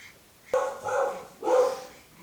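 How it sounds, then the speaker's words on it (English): A dog barks twice, close by, with a short gap between the two sharp woofs in an otherwise quiet room. "Now the dog is barking."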